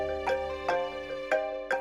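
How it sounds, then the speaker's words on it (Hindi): A phone rings with a call from dad, giving four bright chirping electronic tones at an uneven pace, close and clear with nothing else heard. "पापा का फोन।"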